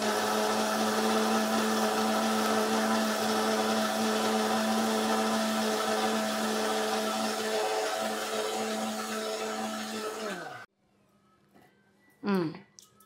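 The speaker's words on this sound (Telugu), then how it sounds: "పెద్ద మిక్సీ కదా, నలగదని చెప్పేసి కొంచెం ముందు కొన్ని ఉల్లిపాయలు వేసి మెత్తగా పేస్ట్ చేస్తున్నాను." A large kitchen mixer grinder whirs loudly and steadily, grinding onions and spices into a smooth paste, then cuts off near the end, followed by a brief rising whir as it restarts.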